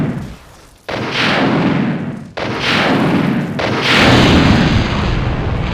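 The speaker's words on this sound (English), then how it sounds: "we see them ready to shoot at the Tyrant" Heavy gunfire booms in the Resident Evil 2 video game as characters shoot at the Tyrant, with three or four loud blasts each followed by a long rumbling roll, loud and close, with no speech.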